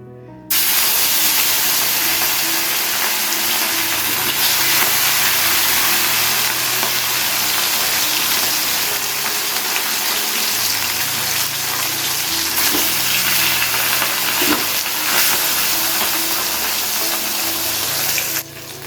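Katla fish frying in hot oil in a wok, a loud, continuous sizzling hiss that stays at full strength for the whole stretch, with no voices.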